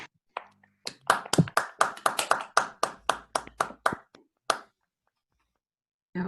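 An online audience claps after a talk, a run of about fifteen sharp, separate claps spread over a few seconds that fade out into silence.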